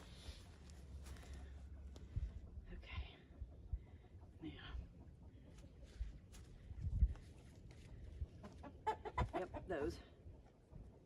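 Chickens held for wing clipping give scattered clucks and short squawks amid handling noise and rustling, fairly faint and intermittent, with a few louder bursts near the end.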